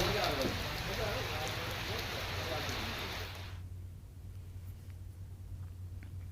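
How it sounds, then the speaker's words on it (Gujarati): Light drizzling rain falls over villages in Gir Somnath as a steady, fairly loud hiss. The hiss stops abruptly partway through, leaving a low hum and quiet ambience. "ઝરમર ઝરમર આ વરસાદ"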